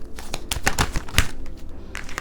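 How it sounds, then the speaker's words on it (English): A deck of tarot cards being shuffled by hand: close, papery riffles and slaps arriving in uneven bursts with short pauses between them. "I'm going to keep shuffling."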